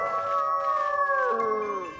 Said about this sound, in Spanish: ¡Eso suena como otro lobo!